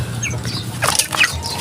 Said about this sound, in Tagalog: Gutom na yung mga manok ko mga kabuli.